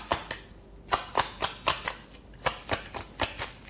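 Tarot cards drawn and shuffled from a deck in a reading, a rapid series of crisp papery snaps and flicks, close and fairly loud, repeating in an uneven rhythm with no talk over them.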